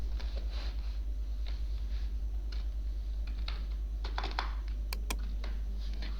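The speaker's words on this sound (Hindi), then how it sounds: "यहाँ पे टाइपिंग जो है वो मैं शुरू कर देता हूँ।" Fingers type on a computer keyboard during online English and Urdu typing practice, producing a steady stream of light, close clicks with occasional sharper key strikes over a constant low hum, with no talking.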